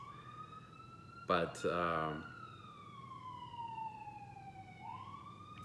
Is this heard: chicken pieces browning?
no